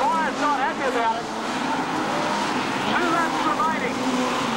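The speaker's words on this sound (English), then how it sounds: "Jensen and Spire still doing battle over their place on the back" Modified production race cars battle for position at Charlton Raceway, engines droning loudly and steadily with rising and falling pitch as they pass, while a race commentator talks over them.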